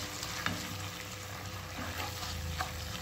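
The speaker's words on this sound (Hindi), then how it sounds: "अच्छे से, इसे हम इसके अंदर भून लेंगे" Ginger garlic paste fries in a kadhai for kadhai gosht. The steady sizzle is broken by a few scrapes of stirring and runs on continuously and fairly faint, with no voices.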